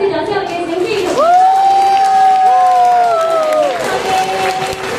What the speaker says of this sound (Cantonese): 今日嘅才藝會已經圓滿結束啦，俾多次掌聲我哋嘅小思怡同埋